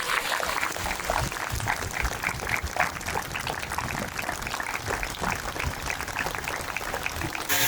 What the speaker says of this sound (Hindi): एक बार जोर से तालियां बजाइए।